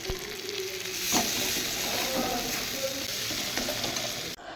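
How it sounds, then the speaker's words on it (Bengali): Masala spice paste sizzles steadily in a hot pan close to the mic, a dense continuous fry with faint stirring that runs throughout and cuts off right at the end. "তো মশলাটা ভাজা হয়ে গেছে"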